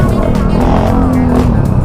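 Heavy road traffic, a loud close rumble of car and motorcycle engines that stays dense and steady throughout, with a voice talking over it.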